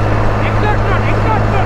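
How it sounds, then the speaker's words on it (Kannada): A tractor engine drones loud and steady while driving, a constant low rumble with wind noise over it and faint voices partly buried beneath it. "ಇದು ಟ್ರ್ಯಾಕ್ಟರ್ ಆಕ್ಚುಲಿ ಲೈಫಲ್ಲಿ ಫಸ್ಟ್ ಟೈಮ್ ಓಡಿಸ್ತಾ ಇರೋದು"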